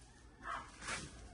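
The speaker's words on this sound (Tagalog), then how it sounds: "Ang sweet ng aso na yan" A dog gives two soft, short barks or yips, faint and slightly distant against a low background hum.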